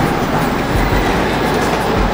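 Close railway carriages roll past a curve, their rhythmic wheel clatter over the rail joints sitting on a loud, steady rumble.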